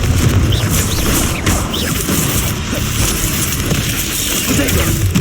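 Confringo blasting spells burst in the Hogwarts Legacy video game, dense booming crashes and rumbling impacts layered over continuous combat noise, with a voice shouting incantations.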